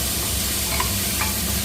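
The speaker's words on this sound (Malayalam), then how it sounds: "നമുക്കിതൊന്ന് സോഫ്റ്റ് ചെയ്യാം. കുറച്ച് നേരം ഒന്ന് ഇളക്കാം." Chicken sizzling in a pan under a constant loud hiss, with a couple of soft stirring scrapes in a short burst.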